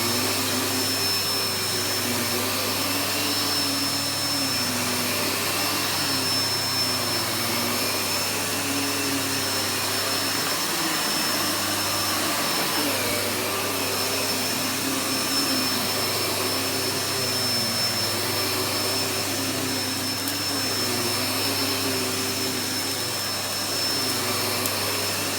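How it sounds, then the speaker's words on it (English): Miele S7 upright vacuum cleaner running in carpet mode over carpet, a loud, steady whine with a constant motor hum that holds unbroken and close for the whole stretch, with no voices. "Make sure this light comes on for when it's on carpet mode."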